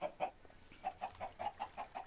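Minecraft chickens cluck in a quick, steady series of short, soft clucks, fairly close, with no talking.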